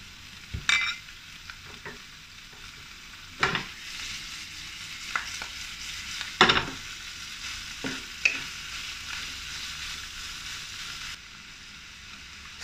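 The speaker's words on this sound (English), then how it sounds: "Stir fry until it changes color." Shrimp stir-fried in a wok for a Chinese-style shrimp and asparagus dish, with a low steady sizzle and several sharp scraping spatula strokes spaced a second or two apart, close and moderately loud, with no talking.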